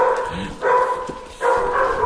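A nervous dog, afraid of anything unfamiliar, barks close by in two loud bursts with a quieter gap between them. No talking is heard.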